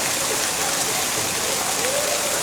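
Heavy rain pouring steadily in Ramgarh Shekhawati, a dense, constant hiss of close downpour filling the whole clip with no break.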